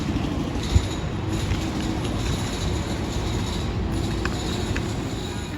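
A Toronto subway train rolls past with a steady, dense rumble and faint metallic clicks, loud and continuous, with no voices.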